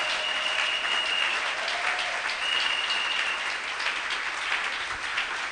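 A church congregation at a French-language worship service applauds in a sustained, dense wash of clapping that holds steady for several seconds, with no talk on top.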